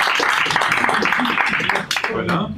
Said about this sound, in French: Allez, on va l'applaudir.